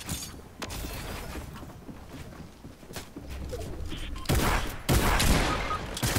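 Rapid bursts of pump shotgun fire ring out in a video game over a steady rumbling bed of action, with louder, denser volleys near the end.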